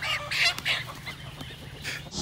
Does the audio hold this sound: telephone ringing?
no